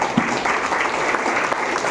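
A dense burst of audience clapping for the teams at an MNS youth wing magic training day in Hyderabad, a loud, steady patter of many hands with no gaps.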